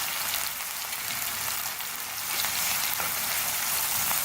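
Onion with ginger garlic paste frying over a medium flame, a steady close sizzle with a fine crackling hiss running throughout and no talk.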